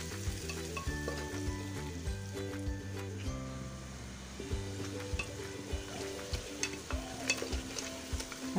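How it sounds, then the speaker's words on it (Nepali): Chopped onions fry in a pan for a kabuli chana curry, a continuous sizzle broken by repeated scraping and stirring strokes of a spoon, close and fairly loud, with no talking. "प्याजलाई चाहिँ मजाले भुट्नु पर्छ"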